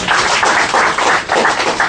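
Dense, steady audience applause at a business seminar in the UAE, many hands clapping together loudly and continuously with a slight pulsing swell.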